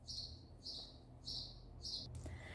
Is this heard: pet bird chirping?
yes